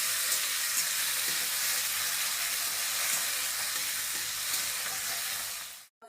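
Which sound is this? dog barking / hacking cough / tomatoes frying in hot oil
tomatoes frying in hot oil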